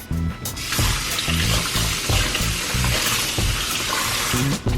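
Running water splashes steadily from a tap, with rhythmic low thuds and rustling as green onions are rinsed under the stream nearby.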